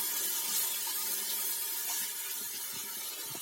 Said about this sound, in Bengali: বাটি ধুয়ে আর একটু জল দিয়ে দেবো।